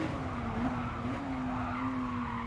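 A 2017 Ford GT brakes hard at the Nürburgring in Gran Turismo Sport, its tyres skidding and squealing over a steady engine drone that holds for the whole stretch.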